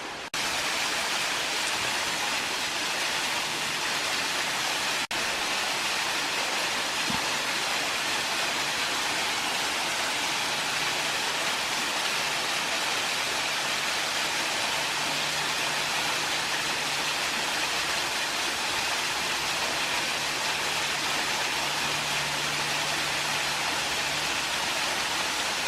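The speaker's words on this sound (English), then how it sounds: "And here we are on the cusp of the waterfall." Shangri La Falls in Bankhead National Forest, Alabama, rushes as a steady, dense roar of falling water, loud and close with no break across the whole stretch.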